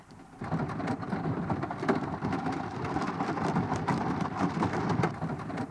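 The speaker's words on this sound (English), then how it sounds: "Can you hear the rain on the roof?" Steady rain drums on the roof of an SUV tiny camper during winter camping at Porteau Cove, a dense continuous patter close overhead with no talk.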